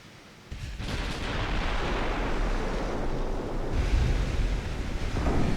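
Warship guns in a naval battle game fire high explosive shells, a sudden heavy boom rising into a sustained rumbling roar of gunfire with deep thumps, loud and without speech.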